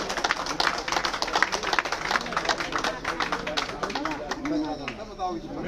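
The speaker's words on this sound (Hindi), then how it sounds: "तालियों के साथ स्वागत भाई।" Crowd clapping to welcome a guest at a political rally in Gohana, a dense steady patter of many hands under loud announcer talk and crowd chatter.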